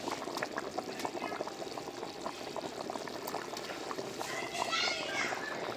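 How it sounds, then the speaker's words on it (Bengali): Taki fish dropped into a simmering curry pot with grated potato, broad bubbling and liquid churn filling the background while a voice talks over it and the bubbling swells near the end. "এখন মাছগুলি দিয়ে দিই।"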